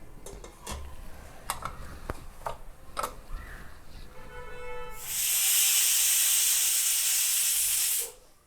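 A pressure cooker on a high gas flame, cooking onion and tomato masala with water for a Punjabi paneer curry, lets out a loud, steady whistling hiss of steam for about three seconds after some quieter kitchen clatter.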